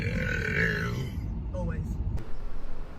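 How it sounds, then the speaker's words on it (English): A woman's loud, deep burp rumbles low and drawn out at the start, followed by a short breathy grunt and a quiet tail of noise, with voices nearby. "You just know it's gonna be good when you got the inhale burp."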